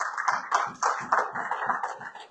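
A church congregation at a Sunday service clapping in rhythm to acclaim the Lord, steady fast claps close together with a lively, roomy sound.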